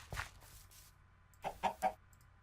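Chicken clucking in a castle-building farming video game: a faint short cackle followed by three quick, distinct clucks in close succession, quiet and alone with no speech.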